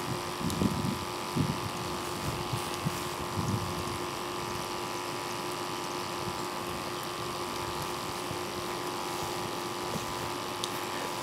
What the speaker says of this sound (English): the little pump's turning on and off.